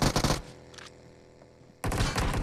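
Bursts of rapid gunfire from the battle royale game BGMI, loud and dense at the start, then a quieter gap with faint game ambience, before heavy shooting resumes near the end.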